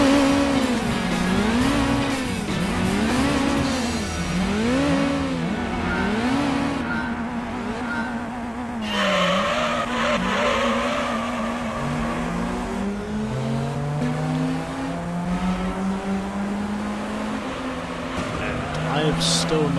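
Toyota Altezza race car engine revving at Monaco in Gran Turismo 3, rising and falling through repeated gear changes and cornering, loud and continuous, with someone talking over it.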